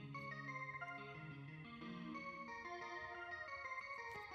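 A MIDI guitar playing the Textural Electric Logic preset gives sustained, layered tones with a shimmering, effect-laden texture, held chords shifting smoothly through a short phrase at a quiet, even level.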